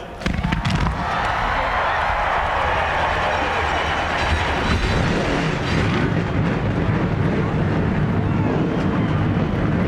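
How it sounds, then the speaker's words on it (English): NASCAR stock car engines firing up together at the start of the 2004 Banquet 400 at Kansas Speedway, a loud, dense and continuous roar rising from a brief quieter moment into a sustained rumble with crowd noise. "Gentlemen, start your engines."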